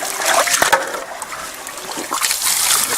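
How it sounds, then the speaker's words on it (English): Water spraying dirt out of a Gold Buddy mini highbanker during gold prospecting, a close, steady hissing splash with sloshing and dribbling throughout. "spray some more water up in here"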